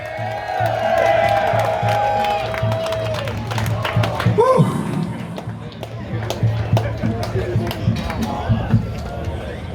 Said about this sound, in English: How about a round of applause for all our contestants?